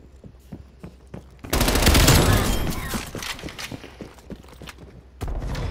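Gunfire in Call of Duty Cold War, with dense bursts of rapid automatic shots from about 1.5 to 3 seconds that trail off, then resume near the end. Lighter game noise and faint talk fill the quieter stretches.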